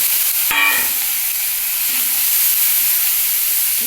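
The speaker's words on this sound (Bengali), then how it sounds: "এইবার আমি দিচ্ছি রসুন কুচি আর আদাটাও একবার আমি দিয়ে নিলাম" Chopped garlic and ginger are dropped into hot oil for a soybean dish, producing a loud, even, steam-like frying hiss that holds steady after a sharp clatter near the start, without speech.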